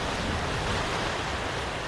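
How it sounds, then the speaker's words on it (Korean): Ocean waves crash steadily against the rocky shore at Seuldo, a dense, continuous roar of surf and spray that stays loud and close with no pauses and no voices. "이 파도 소리를 들으면서 산책을 하면 피로가 싹 가실 정도라는데요"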